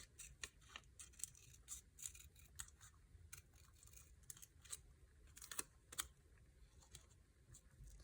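Scissors making a quick rough cut through paper for a B6 Stalogy planner page, a series of soft, close snips and crisp paper rustles in an uneven rhythm, very quiet throughout.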